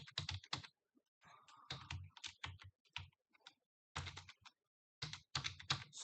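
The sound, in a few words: keyboard typing while writing Python code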